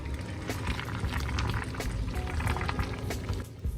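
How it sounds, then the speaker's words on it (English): Water at a full rolling boil in a pot on a stovetop set to high heat, a steady dense bubbling and churning that holds at a constant level throughout with no talk over it. "I've got the water up on high here, and you can see that's come up to a full boil here."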